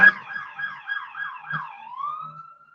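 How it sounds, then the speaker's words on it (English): An ambulance siren wails in a clear repeating yelp, the rising and falling cycles coming quickly before easing into one long, steadier tone; it sounds moderately close and plays alone, with no talking. "Ambulance."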